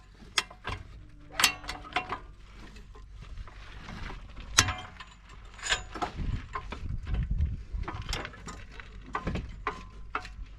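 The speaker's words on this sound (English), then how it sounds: "you need 2 jacks so we can lift this up" A jack is pumped to lift the suspension of a BMW F30 and release spring tension before fitting H&R lowering springs: repeated ratcheting clicks and metallic clinks in an irregular rhythm, close by, with occasional heavier knocks and no speech.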